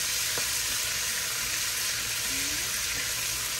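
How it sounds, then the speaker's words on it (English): Green vegetables hit a pan of cooking bacon and give a loud, constant close sizzle and crackle with no talking. "I'm going to go ahead and put that green part get it going in there with that bacon"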